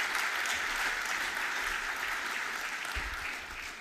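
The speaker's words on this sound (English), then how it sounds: "Your next applause is going to the International Council for Science and Martin Fiesbeck." Audience applause at a science opening ceremony for Martin Visbeck of the International Council for Science, a dense, steady roar of clapping hands that holds through and eases off slightly at the end.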